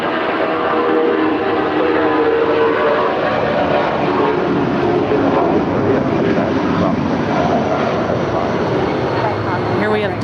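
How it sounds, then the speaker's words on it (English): A 19-year-old Delta Boeing 757-300 bound for Minneapolis at LAX, its engines a loud, steady roar held throughout with no break. "Here we have Delta 2198 to Minneapolis. It's a 19-year-old Boeing 757-300."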